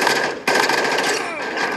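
Rapid automatic gunfire in Call of Duty Warzone Mobile played on a controller: a loud, dense burst of shots that breaks off briefly and then resumes.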